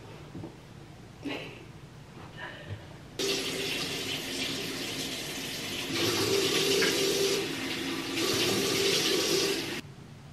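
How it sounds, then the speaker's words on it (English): Water runs steadily from a bathroom tap into a sink during a morning face wash, starting after a few soft handling noises and pouring continuously for about six seconds, close and fairly loud, with a brief change in flow midway. "but I am gonna wash my face"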